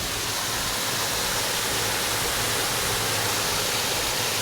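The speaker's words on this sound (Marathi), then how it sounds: "आणि जर ओरिजिनल पाण्याचा आवाज ऐकायचा का तुम्हाला कसा येतो" River water rushes steadily through a dense forest, a constant loud broadband roar with no pauses and no voices.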